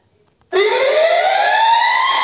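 A loud, steady electronic siren in a video game starts abruptly after a brief quiet and holds a rising wail, sounding synthetic and close, with no voices over it.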